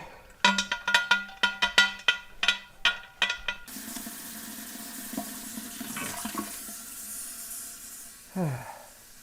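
Tap water runs into a large canning pot being readied for pressure canning split pea soup. A series of sharp metallic clanks comes first, then a steady close gush of filling water, ending with a brief rising gurgle.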